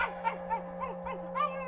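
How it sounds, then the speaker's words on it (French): A Labrador dog barks in a series of about six short, tonal yelps over a steady low hum, moderately close, with no talk during the barking. "Des aboiements, ça s'entend, non?"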